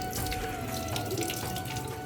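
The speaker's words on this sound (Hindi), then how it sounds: "पानी बहुत ही कम आ रहा है। लेकिन चले आप ऐसा करें, टब भर लें" A thin stream of water runs steadily from a tap into a tub in a home with weak water pressure. It splashes continuously and fairly close, with no talking.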